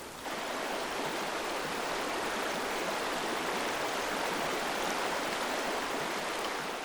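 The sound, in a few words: running stream water in winter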